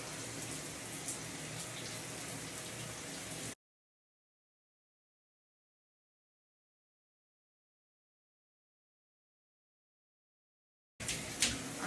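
Shower water runs with a steady hiss while hair is washed. After a few seconds the sound cuts to silence, then returns briefly at the end.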